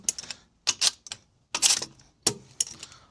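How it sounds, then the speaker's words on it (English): A torque wrench clicks as 1/2-20 lug nuts on a boat trailer are tightened to 100 foot-pounds, sharp metallic clicks arriving in several quick clusters with quiet gaps between, close and distinct. "Torquing lug nuts, 1/2 inch 20. They're gonna go 100 foot-pounds."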